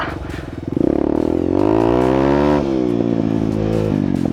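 A weak, underpowered motorcycle engine labors and revs unevenly on an obstacle course, its steady droning tone rising and straining up close, then settling into a weaker rumble.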